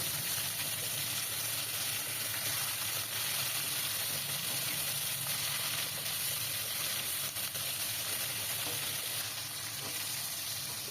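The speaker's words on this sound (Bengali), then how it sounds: "তো মাছগুলো আমি উল্টে দিলাম, ওপর দিকটা দিয়ে দিলাম। দুদিকটাই বেশ ভালো মতো ভাজা হয়ে গেলে আমি তুলে নেব।" Pangas fish pieces fry in hot oil in a Bengali home kitchen, giving a steady, dense sizzle that holds evenly loud for the whole stretch, with no talking.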